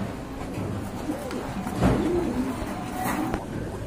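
Pigeons in pairs coo softly at a market where racer and German owl pigeons are sold. The low, rolling coos sit close by over a busy background with a passing car.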